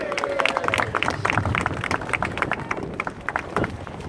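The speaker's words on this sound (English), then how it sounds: "So let's have a big round of applause for Diet." A crowd at a Telford rally claps in memory of Diet, quick scattered hand claps over a soft background murmur, moderately faint and irregular.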